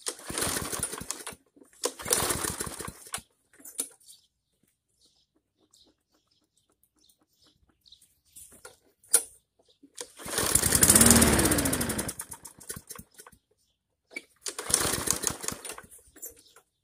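A Briggs & Stratton lawn mower engine is pulled over and fires briefly several times, then dies into quiet; the longest run roars for about two seconds, with pull-cord rattles and faint handling noises in the gaps.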